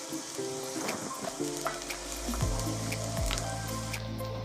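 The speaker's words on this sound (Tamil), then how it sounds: "இப்போ நம்ம குட்டி குட்டியாக கட் பண்ணி வச்ச வெங்காயத்தை இதில் ஆட் பண்ணிடலாம்." Finely chopped onions drop into hot oil for a spicy pasta, a bright crackling sizzle that thickens into a steady close fry, with a few scraping stirs of a spatula in the pan.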